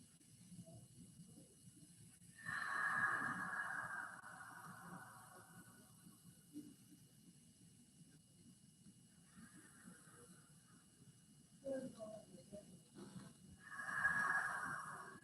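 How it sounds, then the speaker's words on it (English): Slow yoga breaths in child's pose: long, airy inhales and exhales drawn in and out through the nose, faint and close in a quiet room, with several spaced breath cycles. "Two more inhales, 2 more exhales."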